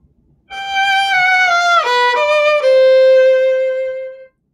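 Lush romantic love theme for the heroine, a sustained singing melody line with rich harmonics that glides and shifts pitch, played alone for about four seconds before stopping.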